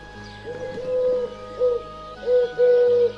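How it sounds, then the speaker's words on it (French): Turtle doves coo in a forest clearing on a morning at winter's end, a few soft, hollow calls repeating at irregular intervals against a quiet, steady background. "Un matin, le chant des tourterelles résonne dans la clairière."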